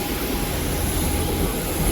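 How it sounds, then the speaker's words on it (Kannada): Steady, loud roar of an airplane's jet engine winding down close by after landing, a broad continuous rumble with no voices over it. "ಫ್ಲೈಟ್ ಇಲ್ಲಿ ಲ್ಯಾಂಡ್ ಆಯಿತು."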